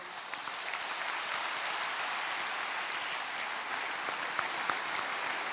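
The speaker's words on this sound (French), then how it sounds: "Un standing ovation" A large crowd gives Angela Merkel a standing ovation at a ceremony, with dense sustained applause, steady and fairly loud throughout, no voices standing out.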